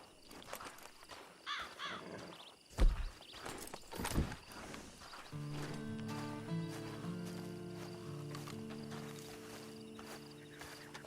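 In Red Dead Online, a horse's hooves clip-clop in a few uneven, fairly close thuds. A low sustained musical drone then fills the rest of the clip.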